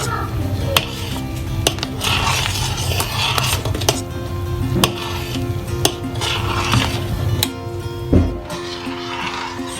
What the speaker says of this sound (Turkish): Evet şekerimizi ilave edip karıştırıyoruz